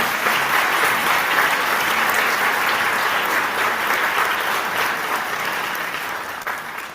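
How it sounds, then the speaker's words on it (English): An awards-show audience gives another round of applause for honoree Jerry Malala, sustained crowd clapping that holds strong and then eases off slightly near the end, with no one speaking over it. "Another round of applause for Jerry Malala"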